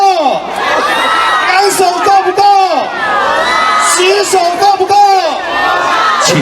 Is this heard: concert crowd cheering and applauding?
yes